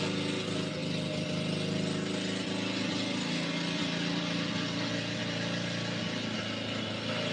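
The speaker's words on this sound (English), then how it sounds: "Just watching her dad go back and forth with the mower and shit." A lawn mower runs steadily and fairly close throughout, a continuous droning engine that stays at an even level as it moves back and forth across a yard.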